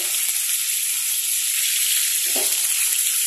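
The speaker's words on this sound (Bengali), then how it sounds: "এটাকে ভালো করে একটু নাড়াচাড়া করে ভেজে নিতে হবে লাল লাল করে" Pointed gourd (potol) pieces frying and being stirred in a pan, a steady loud sizzle throughout with a faint scrape of stirring.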